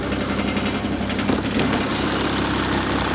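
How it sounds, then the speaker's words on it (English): A John Deere 322 garden tractor with a fuel-injected three-cylinder Yanmar gasoline engine idles steadily. It gives a close, even, low rumbling hum with a faint mechanical rattle and no change in pace. "This has a 3-cylinder Yanmar gasoline engine. It's fuel injected."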